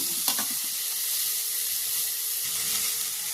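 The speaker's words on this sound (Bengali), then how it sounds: "এগুলো এরকম হালকা করে ফ্রাই করে নিতে হবে।" Tomatoes and vegetables frying lightly in a kadai for North Indian kadai paneer, a steady bright hiss of sizzling oil with faint stirring scrapes near the start, close and continuous.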